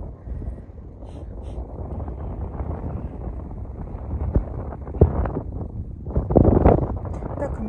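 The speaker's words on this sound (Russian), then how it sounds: "ветер в лицо дует." Steady wind buffets the microphone with a low rumbling roar during a mountain descent in Dombay, gusting louder toward the end, with faint voices underneath.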